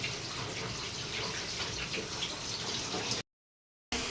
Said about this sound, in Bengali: ভাবি পাতাটা ভালো করে ধুয়ে নিতে আছে